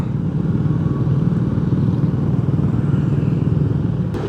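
A motorcycle cruises along a road near Mangatarem, its engine holding a steady, continuous drone at close range with faint clatter and no pauses.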